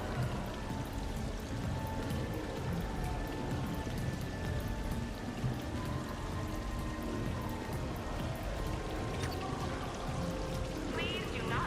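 Steady rushing waterfall in Mass Effect 3, a constant wash of falling water running throughout at moderate level with faint background voices.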